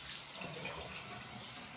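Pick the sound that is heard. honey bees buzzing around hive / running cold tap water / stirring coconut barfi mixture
running cold tap water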